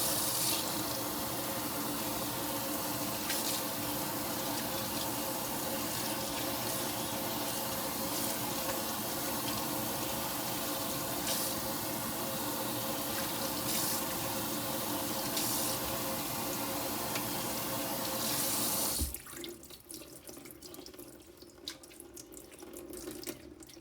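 Tap water runs steadily for about nineteen seconds while conditioner is rinsed out of a synthetic wig, then stops abruptly, leaving faint drips and handling noises.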